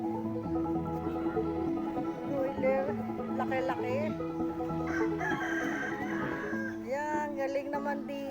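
A rooster crows nearby amid clucking chickens, with people chatting in the background throughout.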